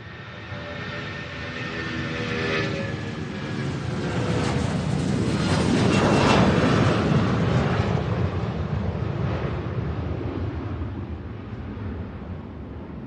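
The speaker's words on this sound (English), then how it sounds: "Beautiful takeoff there, guys." An airliner takes off at Louisville SDF airport, its engine roar building from a distant rumble to a loud, broad peak midway and then slowly fading as it climbs away, with no voices.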